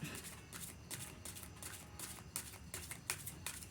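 A new deck of cards riffled and shuffled repeatedly, quick papery fluttering bursts in a steady rhythm, close and fairly quiet.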